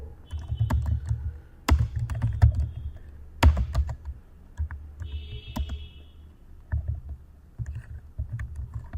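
Keys clatter in irregular bursts as text is typed into a cell of an MS Excel spreadsheet on a computer keyboard, with sharp close clicks and brief pauses between strokes.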